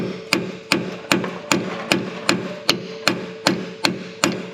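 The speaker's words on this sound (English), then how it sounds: "since I don't have an air chisel long enough, I gotta get a regular chisel out, stick it up in here" A regular chisel is hammered into the steering rack joint of a 2012 Toyota Tacoma to spread it. About a dozen sharp metallic strikes ring out at a steady, even rhythm, close and loud, with no talking.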